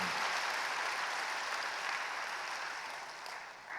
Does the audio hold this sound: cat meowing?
no